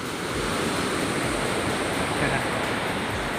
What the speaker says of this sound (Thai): ก็ยังเปิดน้ำแรงนะครับ น้ำแรงมากครับท่านผู้ชม